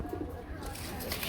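Pigeons at a seller's loft give a soft, low cooing close by, faint and muffled, lasting only a moment.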